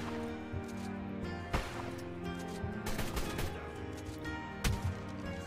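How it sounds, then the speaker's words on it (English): Gunfire and shotgun blasts in a video game battle, a few heavy shots at intervals over a continuous bed of game music and noise, moderately loud. "Oh God, I'm being shot up right here."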